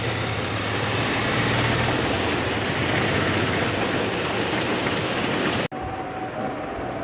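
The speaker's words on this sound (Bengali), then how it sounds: "এটা হচ্ছে শনিবারের বৃষ্টি" Steady, dense hiss of rain falling heavily and evenly, cutting off abruptly near the end and leaving a quieter background.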